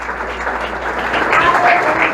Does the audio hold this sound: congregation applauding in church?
yes